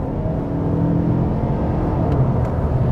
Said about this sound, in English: If we're cruising at 60 right now and I decide to floor it